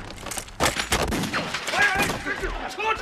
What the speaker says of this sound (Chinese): 把那门炮给我抬过来！